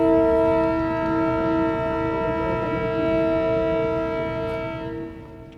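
A train horn sounds a long, sustained, multi-toned blast over the rumble of a running train, loud at first and fading slightly toward the end, with no voices.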